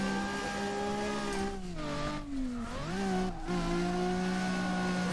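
A Nissan 350Z in CarX Drift Racing Online, played on Xbox One with a wheel, holds a loud, close engine drone that dips and swoops in pitch through gear changes while it drifts, with tire noise under it.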